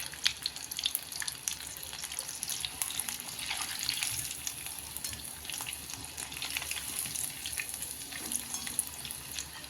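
Chicken 65 frying in oil over a low flame, a steady soft hiss and fine crackle running evenly throughout with no talk.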